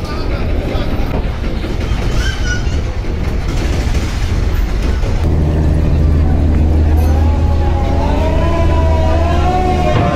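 The Bangladeshi passenger launch Sundarban 15 backs away in reverse gear, a loud steady low engine drone and churning water rumble with a voice talking over it.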